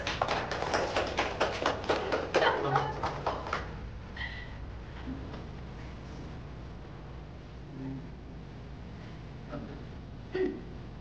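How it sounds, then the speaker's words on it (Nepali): Clapping rises from a group of youths at an indoor game: a quick burst of hand claps in the first few seconds that fades into quiet room murmur with occasional soft knocks. "ताली बजाइदिनुहोस्।"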